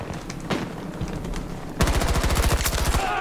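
Vault SMG fires a rapid automatic burst in a video game, starting abruptly partway through and running for over a second at a fast, even rhythm, loud and close after a quieter stretch of ambient game noise.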